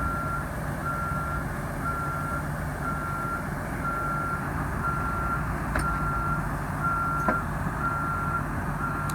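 An electronic warning beep on a 2007 MCI motor coach repeats at a steady, even pace, about one tone per second, over a constant low vehicle rumble.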